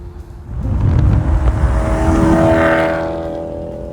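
A loud, deep modified BMW E34 540i V8 engine rumbles close by and revs up, swelling then slowly fading as it pulls away.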